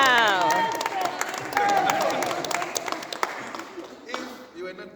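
A group of people claps inside Sudwala Caves in Mpumalanga, South Africa, with a fairly loud, steady round of applause echoing in the cave under cheering and chatter before it thins out.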